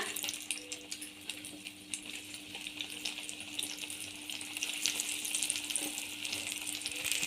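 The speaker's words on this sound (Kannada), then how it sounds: "ಇದನ್ನು ಮತ್ತೊಮ್ಮೆ ನಾವು ಡೀಪ್ ಫ್ರೈ ಮಾಡ್ಕೊಳ್ಳೋಣ. ಎಣ್ಣೆಗೆ ಹಾಕ್ಕೊಳ್ಳೋಣ." Bajji fritters deep fry in hot oil, a steady close crackling sizzle that grows slightly busier toward the end.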